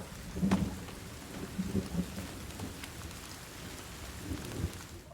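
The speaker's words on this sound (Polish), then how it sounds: "Burza." A thunderstorm in The Forest video game, with continuous rain hiss under several low, rumbling thunder rolls that swell and fade at intervals.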